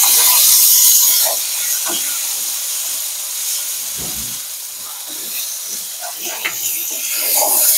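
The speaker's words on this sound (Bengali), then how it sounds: "টমেটো দিয়ে দিচ্ছি। এই সব মশলাগুলো একটু আমি কষিয়ে নেব।" Tomato and spices including Kashmiri chilli sizzle in a hot pan, a loud steady frying hiss with occasional light stirring knocks and scrapes, close by with no talking.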